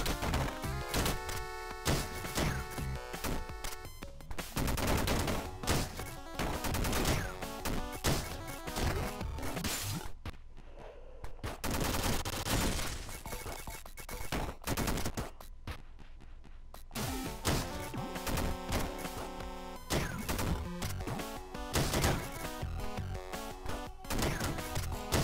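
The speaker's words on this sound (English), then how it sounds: "Machine gun." Rapid bursts of chiptune machine-gun fire in the roguelike video game Downwell, repeating in fast clusters over busy, loud game music, with short gaps between volleys.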